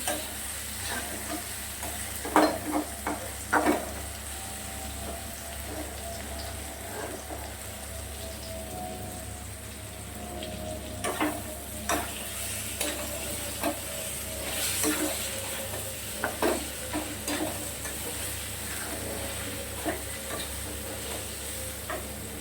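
Large-cut potato slices frying in a pan give a steady, close sizzle with intermittent stirring clatters and brief spattering bursts, continuing on their own for over twenty seconds while a prawn curry is being cooked.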